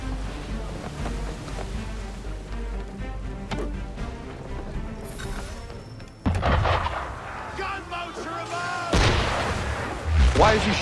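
Cannon fire booms out at a ship amid the sea in Assassin's Creed III, heavy blasts landing over waves and surf, with voices talking in between.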